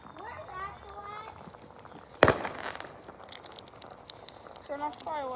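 A single loud firework blast cracks sharply partway through a Fourth of July evening, with people talking before and after it and faint pops trailing off.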